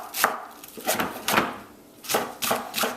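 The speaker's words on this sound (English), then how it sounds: "Got the scallions. Gonna give that a rough chop as well." Knife roughly chopping scallions on a cutting board, five crisp, separate chops at an uneven pace, close and clear with no talking.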